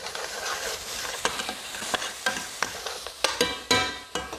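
Onions cooking in a deglazed pan for a curried chicken sauce, a quiet close sizzle with a steady series of soft spatula scrapes and knocks.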